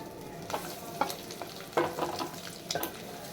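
Eggs fry in a pan with a steady crackling sizzle, broken by several scraping stirs and flips of a spatula, close and moderately loud, with no voices.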